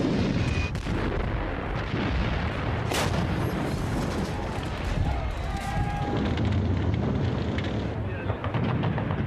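Heavy WWII battle sounds of German machine guns and anti-tank guns firing from camouflaged positions in sunken lanes during Operation Overlord, with dense, continuous booms and gunfire rumbling loudly throughout.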